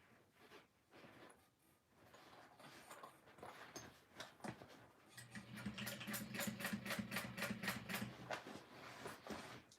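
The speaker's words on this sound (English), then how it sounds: "now comes the fun part of top stitching." Sewing machine top stitching a seam on a Harriet handbag, faint at first with a few knocks, then a steady rapid needle chatter with a low motor hum running for about three seconds.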